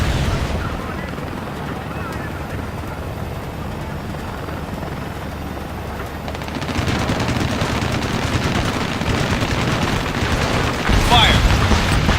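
Intense battle sounds from the Ace Combat Assault Horizon video game: rapid gunfire and explosions rattle over a constant helicopter rotor roar, growing louder and denser in the second half.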